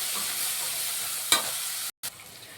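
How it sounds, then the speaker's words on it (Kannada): Fenugreek leaves fry with tomato and onion in a pan for chicken biryani masala, giving a steady loud sizzle throughout, with a brief clunk partway and a short moment of silence near the end. "ಅದು ಸ್ವಲ್ಪ ಫ್ರೈ ಮಾಡ್ಕೊಳ್ಳೋಣ ಇದನ್ನು ಟೊಮೊಟೊ ಈರುಳ್ಳಿ ಜೊತೆಲಿ"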